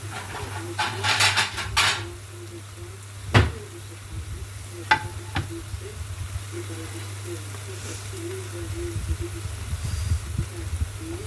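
Plates and dishes clink and clatter in a home kitchen while a pan sizzles steadily underneath; a few sharp knocks stand out among softer handling sounds, with a voice speaking now and then.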